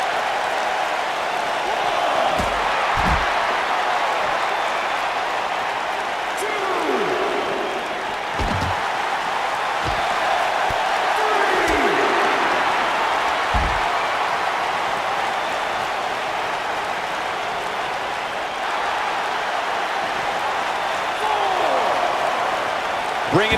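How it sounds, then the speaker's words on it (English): A wrestling video game arena crowd (WWE 2K19) roars in a loud, sustained wash of cheering, punctuated by heavy slams and thuds, with commentary voices over it. "I don't remember the last time I heard a more passionate crowd than the one we have here tonight"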